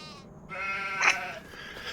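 Sheep in Farming Simulator giving a single short, wavering bleat, fairly faint and heard alone.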